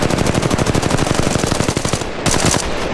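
Sustained automatic weapon fire in the mobile game Apex Legends Mobile, loud close bursts of rapid shots in a steady stream, briefly pausing near the end before another burst.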